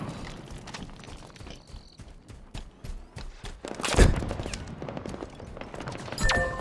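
Gunfire crackles in a capture-the-flag match of the video game Halo Infinite, with scattered shots and a louder burst near the middle over busy, moderately loud game noise.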